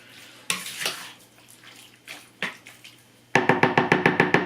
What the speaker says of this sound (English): Let's give that a mix.